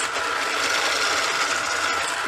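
Egg yolks for tiramisu being whisked: a steady, even whirring and rattling that continues without a break for the whole moment, with no voices.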